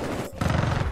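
Gunfire from a weapon in the shooter game Titanfall 2 bursts in loud and close after a brief dip, a dense rapid volley sustained for about half a second.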